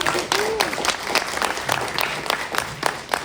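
An audience at an integrative medicine event breaks into loud, sustained applause with distinct, sharp claps, and a voice briefly sounds over the clapping.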